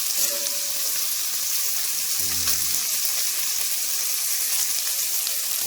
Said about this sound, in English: the Canadian bacon there is frying up,